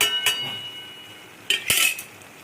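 Ground spices with white cumin, white pepper and garam masala being stirred in a cooking pot for Pakistani chicken reshmi, giving a few sharp metal-on-pot scrapes and clinks, with louder clatter near the end.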